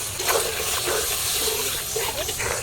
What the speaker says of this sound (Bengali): একটু জল দিয়ে দিচ্ছি জলটা একটু অল্প করে দিলাম